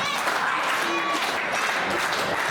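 Crowd at a wrestling match applauding, a steady wash of clapping and crowd noise throughout with a voice talking over it.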